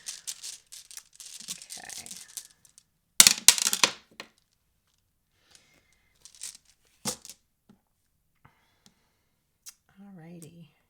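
Rune stones pulled from a bag for a reading, with short rustles, clicks and knocks in scattered bursts, close and fairly loud, with a voice heard briefly near the end.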